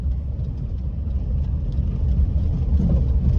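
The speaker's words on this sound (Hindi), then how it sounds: "ज्यादातर ना रोड नॉइज आ रही है और रैटलिंग नॉइज आ रही है गाड़ी में से थोड़ी थोड़ी" Inside a Tata Nano cabin while driving on rough roads, a steady low road rumble fills the space with faint scattered rattles over it, moderately loud and continuous.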